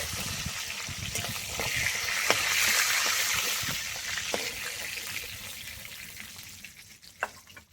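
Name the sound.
frying Nilotica fish in oil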